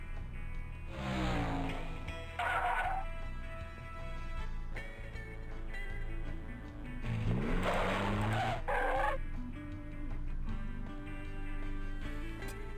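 Cartoon race cars skid in a Putt-Putt video game race, two separate tire squeals sliding in pitch over a quiet musical backdrop, fairly close and clear.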